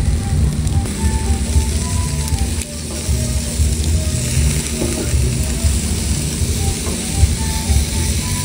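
Chicken heads and feet sizzle on a barbecue grill over a strong fire, a steady loud crackling hiss with occasional scraping and clicks throughout.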